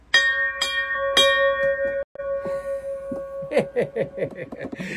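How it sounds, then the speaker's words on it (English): A schooner's ship's bell rings three clear strikes with long, bright resonant decay, followed by lighter clanging tones near the end, close and alone. "How many boats have a bell with this good of a tone?"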